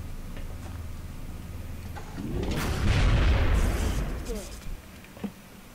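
Gunfire in XCOM Enemy Within, a loud rolling burst building over about two seconds and then fading, with faint background ticking and some talk around it.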